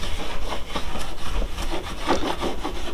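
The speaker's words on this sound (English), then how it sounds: "we're gonna take a little alcohol pad, just clean the surface. Both sides real good." An alcohol pad is rubbed over the plastic surface of a Perception Outlaw 11.5 kayak in quick, close, back-and-forth strokes, a repeated scrubbing sound with no voices.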